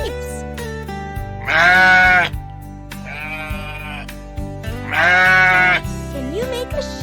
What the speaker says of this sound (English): Can you make a sheep sound too?